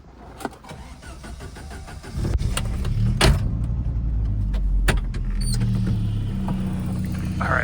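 A classic Saab 900, just fixed after a major fuel leak, cranks and catches after about two seconds, then settles into a steady, close idle that runs alone for the rest of the clip.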